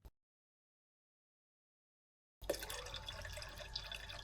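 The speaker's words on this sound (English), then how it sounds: "Next, I'm going to turn on the tap." Water from a kitchen tap runs steadily into a kettle, starting abruptly after a brief click and near-silence, a close, soft splashing stream.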